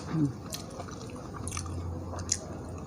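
Someone eating nam prik num, a Thai green chili dip, soft close chewing and biting with moist squishy smacks, plus a brief murmur at the start.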